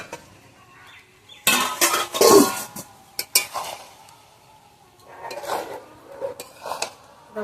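A lid comes off a pot of freshly cooked rice for pulao, followed by a string of close metallic clanks and scrapes of cookware, irregular and fairly loud, with quiet gaps between bursts.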